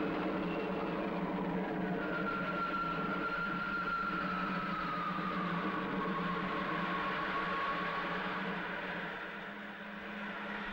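A sci-fi spaceship engine roars in a steady low drone on takeoff, with a high whining tone that slowly glides downward over it, ending with a slight dip in level.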